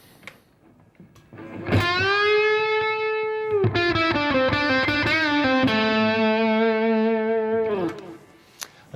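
An electric guitar plays a distorted lick, with sustained notes, string bends and several note changes ringing loud and close, heard alone with no talking.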